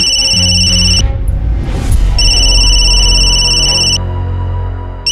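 An electronic telephone ring sounds loudly in two long, bright, warbling bursts separated by a short gap, over a low tonal background.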